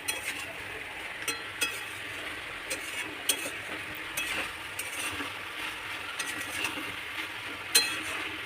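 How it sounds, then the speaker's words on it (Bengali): Leafy greens and stems fried in a pan over high gas, a soft continuous sizzle with intermittent spoon scrapes and clinks against the pan as they are stirred. "এবার গ্যাসটা জোরে দিয়ে একটু নেড়ে চেড়ে জল ঢেলে আবার চাপা দিয়ে দেবো"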